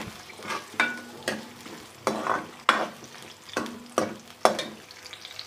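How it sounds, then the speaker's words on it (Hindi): Finely chopped medium onion stirred while frying in ghee in a kadai, giving a steady sizzle broken by repeated scraping stirs about every half second, close and moderately loud with no talking. "यहाँ पर 1 अदद दरमियाने साइज़ की प्याज काट ली है बारीक, इसको डालती हूँ।"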